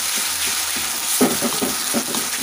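Ginger and garlic paste sizzles in hot oil in a pan while being stirred for a chicken curry, giving a steady crackling hiss with a few louder bursts of spatter. Nobody talks.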